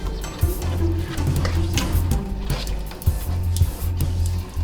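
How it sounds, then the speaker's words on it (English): Homemade play dough mixture stirred in a pot over medium heat, with a continuous close scraping of the utensil against the pot and a faint sizzle from the hot pan beneath a low steady hum. "So you really need to make sure you keep stirring it."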